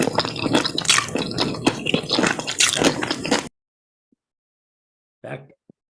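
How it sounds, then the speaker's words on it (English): Someone bites into a crunchy pickle, with wet crunching and squishing chewing close to the mic for several seconds, then silence and one brief final crunch. "That was a crunchy pickle, I think."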